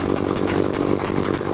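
Modified Honda CB350 motorcycle engine roaring steadily during a top speed run, a loud continuous drone with no pauses and no speech.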